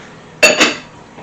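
Brown and white sugar stirred together in a bowl, heard as two quick close clinks of a utensil against the dish with brief scraping in between.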